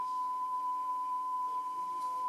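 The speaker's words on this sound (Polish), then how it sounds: "ten sygnał jest trochę zniekształcony na tej taśmie, bo ta taśma jest trochę sfatygowana" Steady single-pitch test tone played back from a worn cassette tape on a GXC-740D cassette deck, continuous and even with a faint hiss underneath and slight wavering.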